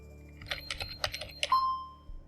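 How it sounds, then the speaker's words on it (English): Keys tapped on a computer keyboard in a short, uneven burst of close, crisp clicks, ending with a brief soft tone, alone with no talk. "again we can use the keyboard."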